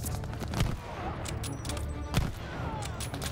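MG42 machine gun fire in Call of Duty: Vanguard, heavy gunfire bursts with a couple of sharp louder cracks over a dense backdrop of shots and explosions, continuous battle din throughout.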